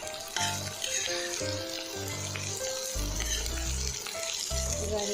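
Chopped bitter gourd sizzles and fries steadily in a pan, with stirring scrapes and clinks over a continuous loud crackle, no talking.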